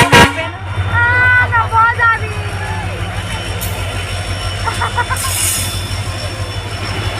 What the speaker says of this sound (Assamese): এখন ট্ৰেইন আকৌ ওচৰলৈ আহিলে